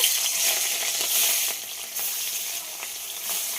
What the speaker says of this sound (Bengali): মাছগুলো খুব ভালো করে ভেজে নেব।